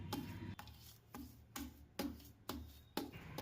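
Boiled potatoes mashed by hand in a bowl for farali pattice, about seven soft, squelchy presses at a steady half-second rhythm, quiet and close with no voices.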